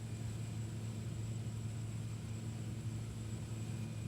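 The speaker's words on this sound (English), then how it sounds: "And we're starting our takeoff roll." Steady droning hum of a De Havilland Otter propeller plane rolling for takeoff in X-Plane 11, a constant low engine tone with a thin high whine, even and unbroken.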